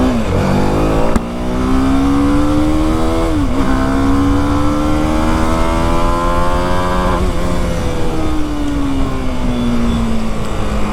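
A BMW G310RR motorcycle pulls away, engine note climbing loud and steady through a couple of gear changes, with a brief dip near the start and a rising drone throughout, no talking.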